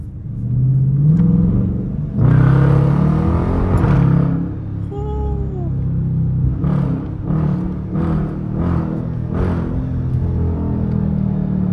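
A loud 5.7 V8 engine in a Dodge Charger R/T rumbles and revs close by, with deep throaty surges and a few sharp revving bursts near the end.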